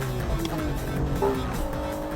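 Honda NSX and BMW M3 racing on a circuit, engines droning with shifting pitch as the cars jostle closely and pass, tires faintly squealing, commentary voices talking over the action.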